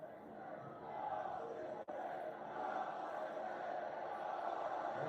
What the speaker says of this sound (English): That's that crowd coming alive.